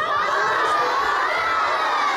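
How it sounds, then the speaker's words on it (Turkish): A crowd of children at a school April 23 holiday celebration shout together in a loud, sustained, unbroken roar of voices, close and filling the space. "Benimle beraber pokus, pokus diye bağırmanız gerekecek."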